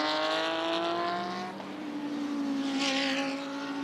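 A GT race car at the Bathurst 12 Hour screams past up close, its engine note holding high, dipping briefly as it shifts around the midpoint, then climbing again with a strong harmonic whine.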